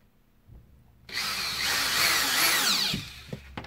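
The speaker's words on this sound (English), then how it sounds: "Throw a couple screws in there." A power drill drives screws into J-channel for a comic display, a close, loud whirring burst of about two seconds after a quiet start, then a short tapering whine.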